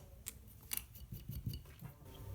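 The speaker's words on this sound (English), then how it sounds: "I'll cut a long one, I'll cut another long one, and now I'll get right down to the middle." Snips of scissors trimming shaped oboe reed cane, a few quiet separate cuts spaced through a short, soft passage.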